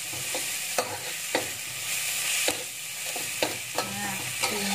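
A spoon stirs food frying in a pan seasoned with pepper, mushroom stock and a little sugar: steady close sizzle with sharp scraping clinks of the utensil at irregular intervals, no voices.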